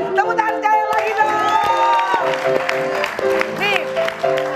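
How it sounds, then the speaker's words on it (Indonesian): A comedy show audience claps and cheers, with whoops and children's shouts mixed in over loud voices, close and lively. "Tepuk tangan sekali lagi dong."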